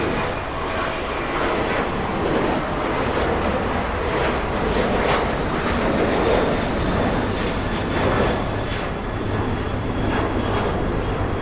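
An Alaska Airlines airliner at LAX roars past with loud, broadband jet noise that swells and wavers over several seconds, steady and close, with no talking.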